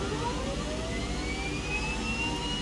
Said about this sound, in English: And we will relight the left engine.